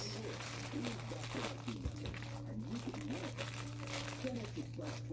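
A plastic mail package from an online clothing haul crinkles and rustles continuously as it is handled and opened, close and fairly loud, with someone talking over it.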